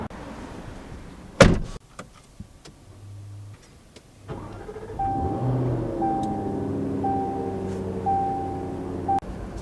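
Someone climbs into a 2023 Jaguar F-Type R: a sharp door thunk near the start, a quiet pause, then a steady electronic hum with a repeating soft chime tone, ending with another brief click.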